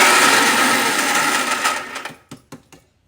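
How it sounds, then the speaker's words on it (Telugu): A mixer grinder spins eight peeled garlic cloves into a ridge gourd peel powder with a loud, whirring motor drone for about two seconds, then winds down into a handful of clicks and knocks before silence. "దీంట్లో ఇప్పుడు ఒక ఎనిమిది ఎల్లిపాయలు పొట్టు తీసిన ఎల్లిపాయలు ఒక్క తిప్పు తిప్పుకుంటా"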